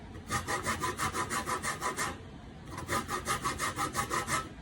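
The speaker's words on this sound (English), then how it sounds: "I'm going to keep scraping here until I get the orange zest that I need" Orange peel scraped for zest in a home kitchen while baking an orange cake, a close, rhythmic rasping of about a dozen quick strokes, a brief pause, then another steady run of strokes, with no talking.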